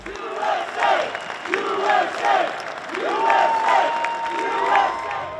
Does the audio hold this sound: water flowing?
no